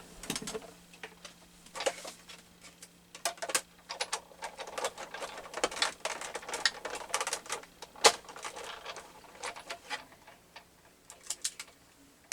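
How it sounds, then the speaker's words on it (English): Die cutting machine cutting an altered playing card, a busy run of close, rapid clicks and ticks with a faint steady hum underneath, no talking. "I'm going to turn around and die cut this"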